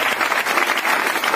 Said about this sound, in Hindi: जोरदार तालियां धर्मशिला मैम और सुरेंद्र सर के लिए